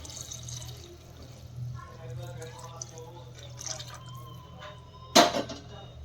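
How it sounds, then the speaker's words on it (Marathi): Hot water is poured into fried masala in a pan for Puneri misal, a brief splashing hiss rising suddenly near the end after quiet kitchen sounds. "आता आपण ह्याच्यामध्ये गरम पाणी टाकून घेऊयात, जेणेकरून मसाल्याला छान असा कट येईल."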